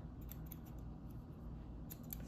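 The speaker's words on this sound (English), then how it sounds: "These are neat little scissors." Small thrift-store scissors are handled up close, giving light metallic clicks and snips in quick, irregular bursts over a low background hum.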